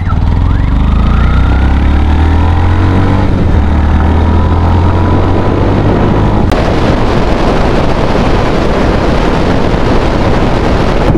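Yamaha FZ-X 2025 motorcycle climbing a flyover, with a loud, close engine note rising in pitch, then a sustained roar with heavy wind rush over the last few seconds.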